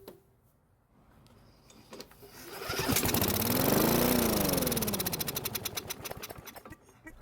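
A Bolens lawn mower engine, primed with fuel poured into the carburetor throat, coughs, catches and runs loudly for a few seconds with a rapid pulsing drone, then slows and sputters as it winds down.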